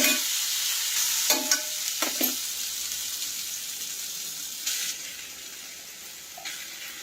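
Grated amla goes into a pan of roasted fennel seeds and is stirred, a steady broadband sizzle with a few sharp scraping stir strokes near the start and occasional later clatter, no voices.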